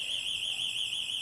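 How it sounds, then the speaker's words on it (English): An electronic household alarm going off, a continuous high-pitched warbling tone that is loud, close and unbroken for the whole moment, with no talk over it. "Sorry about that, that's my alarm going off."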